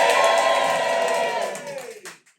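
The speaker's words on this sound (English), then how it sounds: "Just give me a cheer if you want to hear some dirty jokes." A comedy club crowd lets out a loud burst of cheering and whooping that holds briefly, then tapers off and falls quiet near the end.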